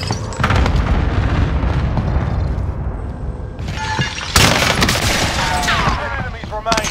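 Airstrike explosions in a war video game's battle-royale match, loud booming blasts mixed with gunfire, with a sharp heavy impact near the middle and dense rumbling and crackling throughout.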